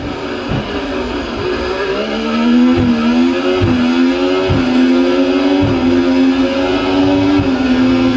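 A racing car in a racing video game, engine revving steadily upward in pitch while a series of sharp low thumps repeats every second or so as the wheels run over rumble strips, close and loud, with no voices.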